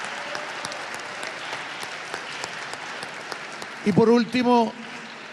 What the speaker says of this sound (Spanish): pido un aplauso para los representantes del Ejecutivo